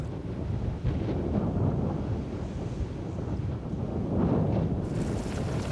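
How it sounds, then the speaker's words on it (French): Strong wind gusts steadily past the microphone at nightfall by the sea in Oman, a dense, continuous roar with a few swelling surges and no voices. "Lorsque la nuit tombe, le vent se lève."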